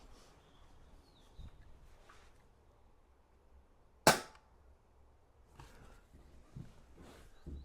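An airgun is fired once at an outdoor airgun range beside a fishing lake, giving a single sharp, loud crack that stands out against quiet background noise and faint bird calls.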